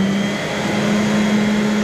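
A Rainbow SE vacuum cleaner with a tortoise shell marble finish runs at a steady, loud motor whine with a constant hum, close up and alone.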